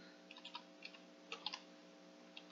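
Fingers typing on a computer keyboard, quiet uneven clusters of key clicks against a steady electrical hum, with no voices.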